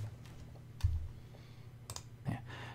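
Typing code on a computer keyboard: a few scattered, faint key clicks and taps in a quiet room with a low steady hum underneath, close and without talk.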